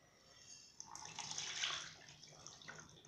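Water sloshed and poured out of a small betta fish container during a water change, a quiet swishing that swells into a brief splashing pour, close by with no speech.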